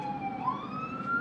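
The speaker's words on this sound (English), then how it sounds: "oh, there's a siren." Fire engine siren passing by, a faint distant wail rising and falling in pitch over quiet background.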